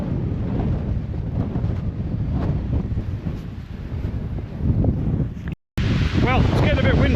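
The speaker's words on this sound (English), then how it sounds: "Well, it's getting a bit windy, hoping you can hear me." Wind buffets and rumbles across an outdoor microphone, a steady low roar with gusts throughout, briefly cutting out before resuming as a voice speaks over it.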